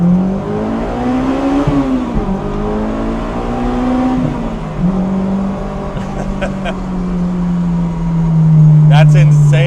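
A Honda S2000 being driven, its engine revving and climbing in pitch, easing off and rising again, then pulling hard toward the end, heard loud and close from the cabin.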